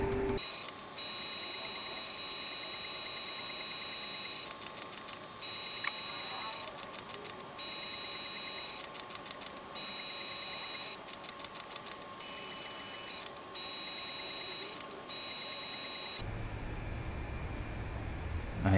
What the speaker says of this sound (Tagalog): tapos na mag-hand cleaning ang Canon G3000 natin